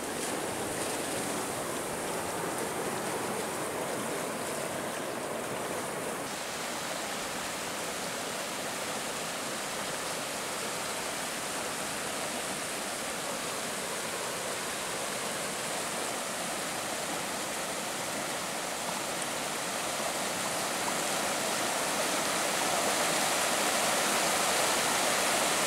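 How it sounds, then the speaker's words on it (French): A mountain stream rushes just below, a few centimetres away, in a steady, loud, broadband roar that runs unbroken throughout, with no voices over it. "Avec toute la puissance du ruisseau à quelques centimètres"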